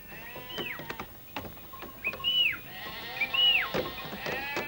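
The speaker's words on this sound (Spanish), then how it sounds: "Las ovejas descienden inquietas y hambrientas tras el viaje" Flock of sheep bleating after unloading from a train journey, several overlapping bleats near and far, some rising and wavering, over a low background murmur.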